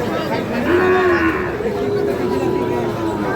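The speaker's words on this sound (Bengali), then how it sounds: "এখানে বেশ কয়েকটি বাছুর গরু দেখছি।" A Sahiwal bull calf lets out a clear, drawn-out moo at a busy village cattle market, while other cattle sounds and faint crowd chatter fill the background.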